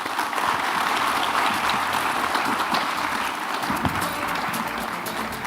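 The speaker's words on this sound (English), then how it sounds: "A big round of applause for the panelists." An audience claps for conference panelists on stage at a technology forum, dense sustained applause from a sizable crowd, loud and steady throughout without speech.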